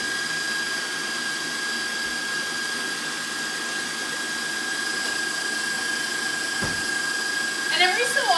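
An electric mixer whirs steadily as it beats banana currant bread batter into creamed butter and sugar, a continuous close drone that grows slightly louder and busier near the end.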